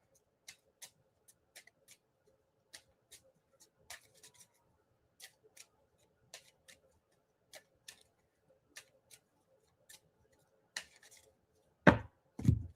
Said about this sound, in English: I was shuffling the wrong deck